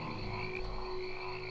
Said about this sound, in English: we've just angered a frog